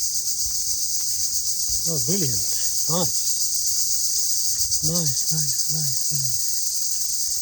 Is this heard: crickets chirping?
yes